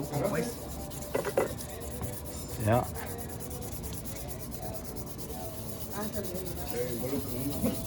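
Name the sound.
sanding knife handles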